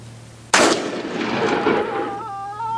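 A single loud, close shotgun blast during skeet shooting with a new shotgun, followed by a long decaying rumble and ringing tail that fades over about two seconds.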